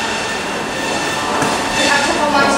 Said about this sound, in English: Going into the subway now.